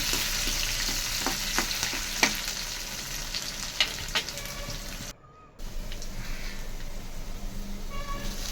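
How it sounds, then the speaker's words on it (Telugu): Onions sizzling in a hot pan while a spoon stirs them, with scraping and clinks in the first half, a brief drop-out midway, then steady frying hiss continuing alone. "అందులోనే ఆనియన్స్ అయితే వేసుకున్నాను. ఒకసారి అయితే తిప్పుతాను."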